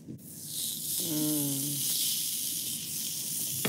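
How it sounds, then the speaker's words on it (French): Steak sizzles steadily in a ridged cast-iron grill pan, a close, continuous hiss throughout, with a brief tonal squeal partway through and a faint clink near the end. "c'est le temps pour moi de commencer à griller notre steak"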